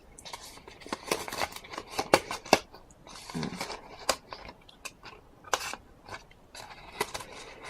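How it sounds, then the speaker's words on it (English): Scissors trimming paper card for a miniature cup craft, a series of crisp close snips and paper rustles in an irregular rhythm, no talking. "So then I'll just trim those all out of there."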